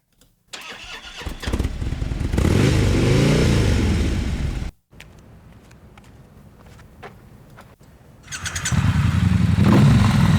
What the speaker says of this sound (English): Okay, so that's a sports bike.